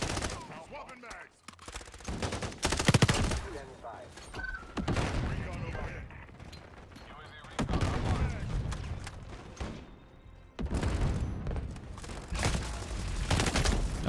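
Rapid bursts of automatic gunfire and single shots from the video game Modern Warfare, loud and dense throughout, mixed with other in-game sounds and a player's voice talking over the action.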